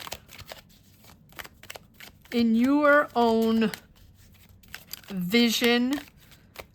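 Tarot cards are shuffled and handled with quick crisp flicks and rustles, close by and fairly faint, mixed in between stretches of a person talking.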